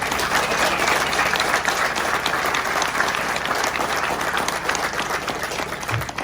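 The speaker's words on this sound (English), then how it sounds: "Big round of applause." Sustained, dense applause from the audience at the Homesteaders of New England conference, many people clapping steadily at close range for several seconds with no voices over it.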